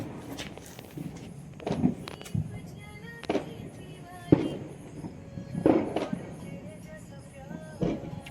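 Diwali firecrackers go off in a series of sharp bangs and pops at irregular intervals, some close and loud and others more distant, with brief crackling tails and quiet gaps between.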